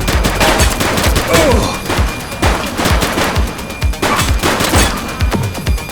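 Rapid gunfire from The Precinct police game, a dense fusillade of loud, sharp shots mixed with bursts of automatic fire, continuous and close throughout.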